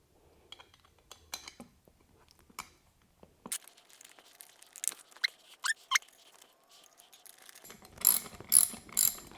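Ratchet wrench tightening a part on a 2019 Harley-Davidson Street Glide CVO in a garage, irregular bursts of close clicking pawl sounds, growing louder and busier toward the end.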